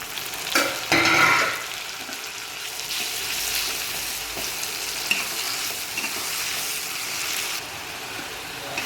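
Tomatoes and onions sizzling in a pan for a bitter gourd kuzhambu, with a loud burst of clattering stirring early on, then an even, close frying hiss with light spoon scrapes.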